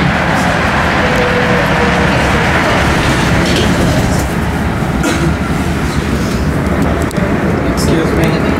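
A CTA Blue Line train heading to O'Hare runs on rails at night, giving a loud continuous rumble and rattle heard from inside the car, with a recorded announcement voice over it.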